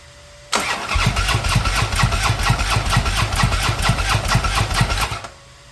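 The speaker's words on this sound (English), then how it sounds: "turn the switch on, crank it up till it dies" A 2013 Harley-Davidson motorcycle engine cranked with the fuel pump disabled, a sharp start then a continuous rapid rhythmic chugging of the starter and engine for about five seconds before it stops abruptly, loud and close.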